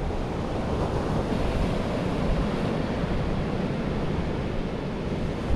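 Surf and gusting wind on a cold, windy beach at New Smyrna Beach, heard as a steady, loud wash of waves with constant wind buffeting the microphone, no voices.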